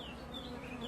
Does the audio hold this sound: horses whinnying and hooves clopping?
no